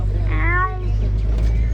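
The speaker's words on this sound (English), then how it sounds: "They also sound just like them, as they also make a meowing and a purring noise too." A cheetah at a safari park gives a single short, rising meow-like call close by, over a steady low vehicle rumble.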